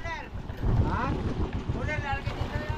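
Many boats crowd the water near Fortune Island. Engine rumble and wind buffeting the microphone mix with the choppy sea, while people talk close by.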